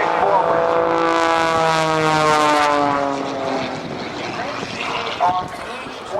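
Patty Wagstaff's aerobatic propeller plane performs rolls at the 2008 NAS Oceana Airshow, its engine a loud, steady drone that sweeps down in pitch as it passes and fades slightly, with a commentator talking over it.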